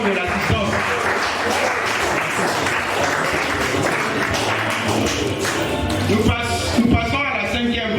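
A crowd applauds steadily and loudly throughout a law students' mock trial, dense clapping filling the room, with some voices and cheers mixed in.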